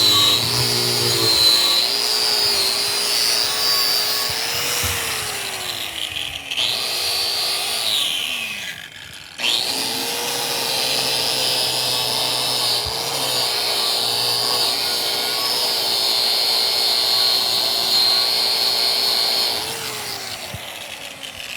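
Stick welding a 6G pipe fill pass with a 6010 or 7018 rod, a close, steady crackling buzz that runs almost continuously with one brief break midway, no voices.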